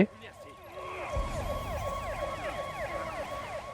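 Wailing ambulance siren in the Marvel's Spider-Man PS4 video game, a repeating up-and-down electronic wail that holds steady throughout, moderately loud over low background rumble, with no talk over it.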